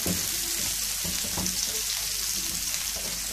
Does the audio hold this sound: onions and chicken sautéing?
yes